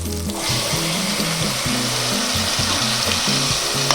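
Ginger and garlic paste sizzles steadily in a hot pan for Kongunadu chicken gravy, a dense, continuous frying hiss close by, with a faint stirring rhythm underneath.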